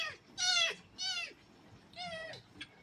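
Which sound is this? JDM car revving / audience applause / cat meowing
cat meowing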